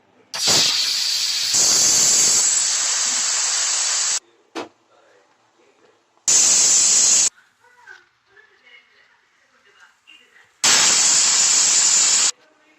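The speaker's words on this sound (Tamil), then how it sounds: "உங்கள் குக்கர் எத்தனை விசில் விடுதோ அந்த மாதிரி விட்டுக்கோங்க" A stovetop pressure cooker cooking tomato rice lets off three long, loud, hissing steam whistles, each lasting a second or more, separated by quieter gaps with faint kitchen noises.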